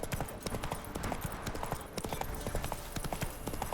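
Horse hooves gallop in The Witcher 3, a steady rapid clip-clop of hoofbeats over a dense background of game ambience, close and continuous without pause.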